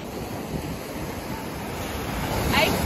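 Ocean surf at Palm Cove Beach in tropical Australia, a steady broadband wash of warm-water waves with some wind buffeting the microphone, swelling a little louder toward the end.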